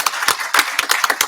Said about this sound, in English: Can we give a round of applause to the AV team?